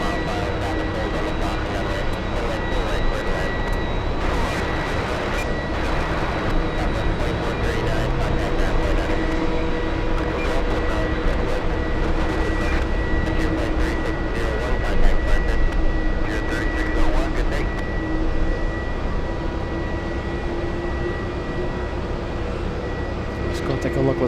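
A Cape Air plane taxis to a parking area at an airport, its engine a steady drone with distant rumble and faint airfield clatter around it.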